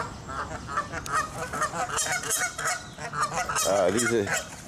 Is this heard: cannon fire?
no